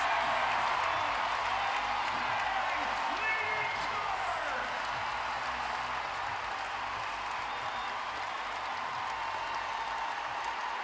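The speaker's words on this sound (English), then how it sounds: "listen to this crowd, folks" A packed arena crowd roars during a timeout at a women's college basketball game between Michigan and the Iowa Hawkeyes, a loud, unbroken wall of cheering and clapping throughout.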